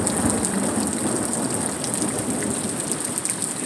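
Steady rain falls hard during a thunderstorm, a dense continuous hiss with low rumbling underneath and no voices.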